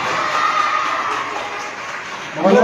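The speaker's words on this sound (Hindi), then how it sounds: "जोर से ताली बजा के खुशी।" A crowd at a public gift-handover event in Okhla, Delhi, cheers and shouts loudly in a sustained roar, with a fresh burst of excitement at the end.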